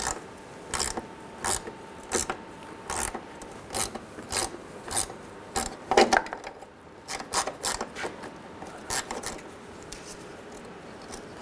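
A socket wrench ratchets on a bolt holding the ABS wheel speed sensor bracket at the rear of a 2003-2008 Subaru Forester, using a 12mm socket. Bursts of close, rapid clicking repeat in quick strokes throughout, with no talk.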